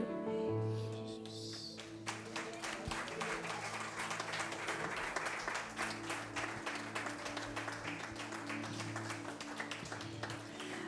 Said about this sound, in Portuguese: Você pode aplaudir com mais força.